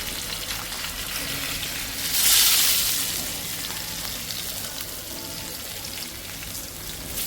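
Mackerel (bangda) fish frying in oil in a pan, with a steady close sizzle that swells into a loud hiss as a piece is flipped, then settles back.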